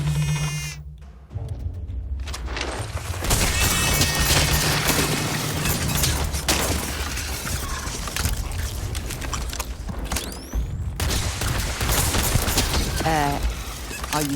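Rapid gunfire in Starfield, dense bursts of shots and mechanical clatter running almost continuously at close range, with a voice speaking over the action.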